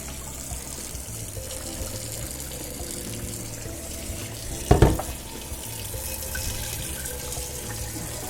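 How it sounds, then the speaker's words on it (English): Cold tap water runs steadily over cooked rice for Persian tarragon rice, rinsing out the starch; a continuous, moderate stream with a brief, louder splash midway and no voices. "you get some cold water over this cooked rice to wash some of the starch out"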